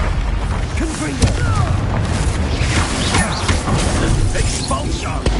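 A Confringo fire spell blasts in Hogwarts Legacy, a booming, crashing explosion amid dense, continuous combat noise that stays loud throughout, with a voice calling out over the din.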